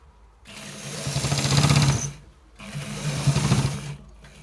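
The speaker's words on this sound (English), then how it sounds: "So this is how we stitch it." Sewing machine stitching a designer shirt collar in two close, loud bursts of rapid needle chatter, each about a second and a half, separated by a short pause.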